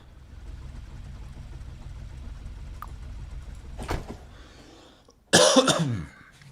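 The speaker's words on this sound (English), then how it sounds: "I've got a bit of an itchy throat that I've had the last few days, and so I might be coughing frequently" Someone with an itchy throat coughs twice, a short muffled cough midway and then a louder, harsher burst of coughing near the end, over quiet background hum.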